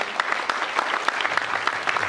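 An audience at the final of a Southeast Asian sommelier competition claps for a contestant, with dense steady applause from many hands nearby throughout.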